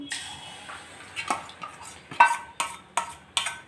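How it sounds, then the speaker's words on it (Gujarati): Yogurt and gram flour mixture stirred in a pan for Kathiyawadi drumstick curry: a spoon clinks and scrapes against the pan in irregular, close strokes, about eight distinct knocks over a few seconds. "આપણે જે આ દહીં અને ચણાના લોટનું મિશ્રણ તૈયાર કરેલું છે ને સરસ હલાવી લેવાનું"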